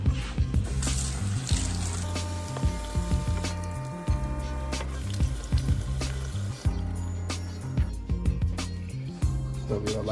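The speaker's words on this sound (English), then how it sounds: "always wash your hands" Water running from a kitchen tap while hands are washed at a sink before grilling salmon, a steady close splashing flow with no talking.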